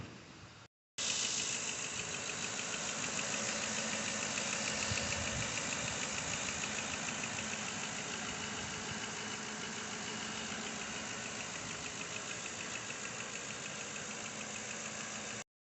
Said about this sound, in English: Now let me show you the engine.